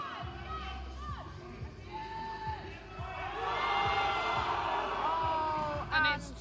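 A crowd at a powerlifting meet cheers and yells in support of a lifter's deadlift attempt, loud whoops and shouts building toward the end, with a commentator talking over it.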